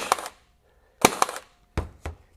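A RIDGID 18-gauge cordless stapler drives 1 1/4 inch staples into hardwood, four sharp, close snapping shots spaced unevenly across a couple of seconds, each with a faint mechanical whir after it and near-silence between.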